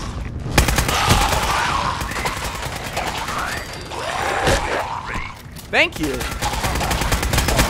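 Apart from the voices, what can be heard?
automatic weapon gunfire in video game Fallout 4 Nuka-World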